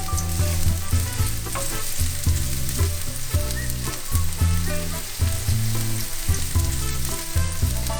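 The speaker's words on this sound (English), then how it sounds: "Heat up some oil and fry the onion." Onion fries in hot oil for a tamarind fish sauce, giving a loud, close, continuous sizzle with crackling and stirring clatter. Rhythmic low background music plays underneath and nobody speaks.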